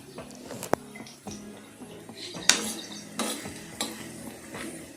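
A metal spoon scrapes and clinks against a pan of fried bitter gourd while scooping out oil, giving scattered sharp taps and scrapes with quiet pauses between them.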